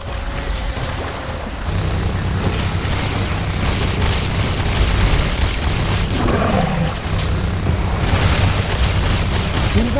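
Loud, dense rumbling explosions from a tower being destroyed in The Riftbreaker while the base is under attack, heavy booms rolling over one another for the full stretch with no clear pause.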